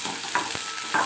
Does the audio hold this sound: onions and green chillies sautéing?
yes